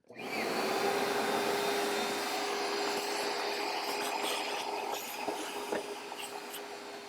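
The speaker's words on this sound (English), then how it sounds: "I'm just going to grab a shop vac and vacuum out anything that would be inside of it" A shop vacuum roars steadily and close for several seconds, a loud whooshing drone with a faint whine, briefly rattling as debris is sucked up from a car's air filter housing.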